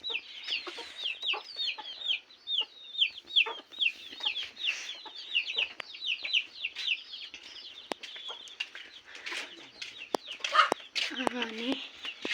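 A mother hen clucks among her chicks, close, rapid peeping and soft clucks in an irregular stream, with a few sharper calls near the end.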